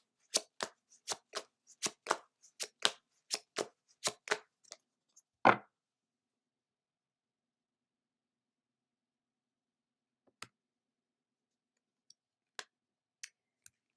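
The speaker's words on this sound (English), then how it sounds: "Next, we'll pull a card from the Angel Answer deck." An Angel Answer oracle card deck is shuffled nearby, a rapid run of about a dozen crisp riffling snaps and taps ending in a louder slap, followed by silence and a few scattered light clicks.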